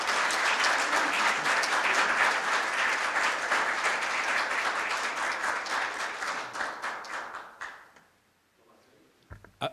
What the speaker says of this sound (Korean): 여러분 큰 박수로 맞이해 주시면 감사하겠습니다.